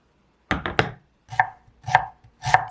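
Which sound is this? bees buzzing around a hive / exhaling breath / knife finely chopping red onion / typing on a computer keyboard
knife finely chopping red onion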